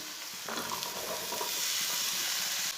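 Finely chopped peas, carrots and potatoes added to browned onions in a pan begin to sizzle, a steady hiss rising after a soft drop and continuing alone.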